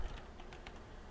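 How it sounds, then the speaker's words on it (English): Quiet clicking of keys as a password is typed on a computer keyboard, a handful of soft taps in uneven rhythm over low room hiss, nearby and faint. "I type in my password"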